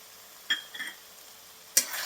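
A spoon scrapes and stirs through a dry curry of drumstick pods in a pan, two or three short clinking strokes with quiet gaps between them over a faint background.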